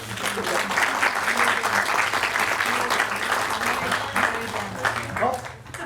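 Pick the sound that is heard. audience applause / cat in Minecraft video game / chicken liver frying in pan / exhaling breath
audience applause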